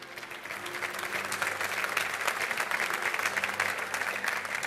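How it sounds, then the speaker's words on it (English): Audience applause at the Women's EHF EURO 2018 handball final tournament draw, a steady dense clapping from a large crowd that holds for the whole stretch without voices on top. "Please, a round of applause for them all."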